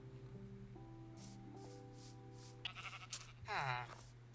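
A Minecraft sheep bleats once, close and clear, near the end, after soft scuffing and tapping sounds over a steady background tone.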